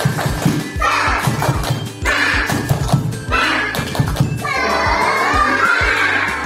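Children in a classroom perform a rhythmic spirit clap chant, bursts of patterned hand claps and thumps alternating with group voices chanting, loud and close, repeating in several phrases.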